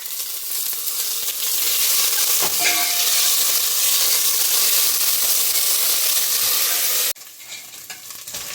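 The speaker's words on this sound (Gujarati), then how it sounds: "વઘાર આપણો સતળાઈને તૈયાર થઈ ગયો છે" Whole spices (cloves, cinnamon, bay leaf, dried chillies), curry leaves and ginger-chilli paste crackle and sizzle loudly in hot oil, a continuous bright hiss with occasional stirring clinks, dropping off suddenly near the end.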